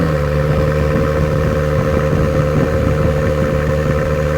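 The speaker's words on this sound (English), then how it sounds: "That way you can hear the actual cold start." An Acura NSX twin-turbo hybrid idles after a cold start, a loud, steady, deep engine drone recorded close from behind the car, with no talking over it.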